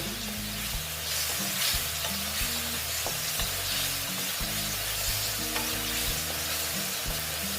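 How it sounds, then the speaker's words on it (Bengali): Ash gourd curry with ginger paste is sautéed in a pan, giving a steady sizzle under repeated rhythmic scraping strokes of a spatula against the pan. "দিয়ে আমি এটা আবার ভালো মতো কষিয়ে নেবো"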